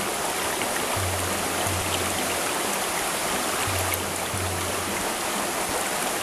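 A swollen, fast-flowing river in the rainy season rushes steadily nearby, a constant loud broadband roar, with a faint low hum rising twice in the background.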